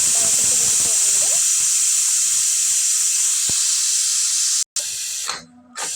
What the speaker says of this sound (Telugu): విజిల్స్ వచ్చిన తర్వాత స్టవ్ ఆఫ్ చేసి విజిల్ని ఇలా అనండి. ఆవిరి బయటకు వెళ్ళిపోతుంది.